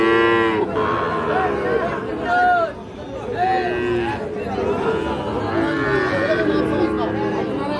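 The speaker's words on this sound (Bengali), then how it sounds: "প্রচুর চাহিদা সম্পন্ন শাহিওয়াল জাতের ষাঁড় বাছুর যেখানে কেনাবেচা চলছে, আমরা কিন্তু সে জায়গায় রয়েছি।" Sahiwal bull calves at a busy rural cattle market in Dinajpur give repeated loud moos and lows, close by and overlapping. Crowd chatter and a man's speech run underneath.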